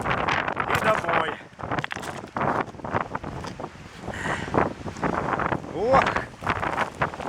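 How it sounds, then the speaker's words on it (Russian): Strong gusting wind at 25 metres per second roaring into the microphone outdoors on a hunt, loud and buffeting throughout, with a voice exclaiming and talking over it. "Вот так вот. Вот так тут дует."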